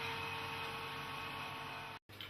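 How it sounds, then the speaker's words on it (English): Steady electrical hum with a whining tone from the vacuum pump of a scanning electron microscope, running continuously and fairly loud, then cutting out briefly near the end. "The material tester turns on the vacuum pump control and vents the specimen chamber."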